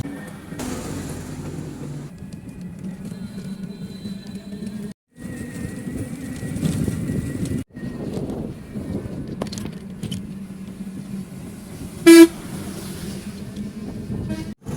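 Traffic is jammed on a narrow street in Dhaka, Bangladesh, where a large truck has squeezed in, with a steady engine rumble, scattered clatter and a short, loud horn toot near the end.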